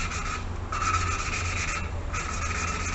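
Engine valve being lapped, ground back and forth against its seat with compound, giving a continuous gritty rubbing scrape with brief dips in intensity, close and steady with no talk.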